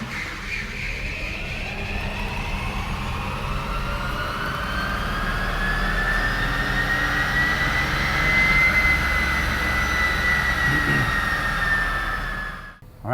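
A Mustang converted to a Tesla electric drive runs on a dyno, its motor emitting a loud sustained high whine that rises in pitch and then eases, over a low rumble of rollers.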